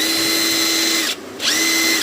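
CTU Moon cordless impact wrench spinning with a high, steady whine close by, briefly cutting out for a split second before spinning back up to full speed.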